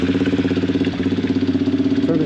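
A small Venom X19 pocket bike engine idles just after starting on a fresh carburetor, a steady, rapid, lumpy putter close by, with a brief dip midway, alone without speech.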